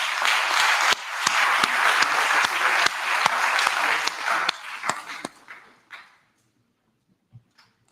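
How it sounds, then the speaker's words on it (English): An audience at a college opening convocation claps loudly and steadily for a speaker for about five seconds. The applause then thins to a few scattered claps and fades into near silence, with a couple of faint isolated taps at the end. "Let's give our speaker another round of applause."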